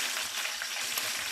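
Pepper cooks in hot oil in a home kitchen. A brief, close, steady sizzle crackles with a few soft bubbling pops and no talking.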